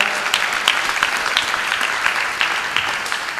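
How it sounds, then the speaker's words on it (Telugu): A church congregation claps loudly during a sermon: dense, sustained applause with sharp individual claps, steady and close throughout, with no talking over it. "చప్పట్లు కొట్టండి గట్టిగా"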